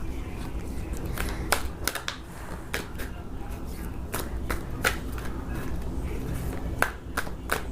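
Tarot cards being shuffled by hand, a close run of crisp riffling flicks and slaps repeating irregularly over a low steady background hum, with no voice heard.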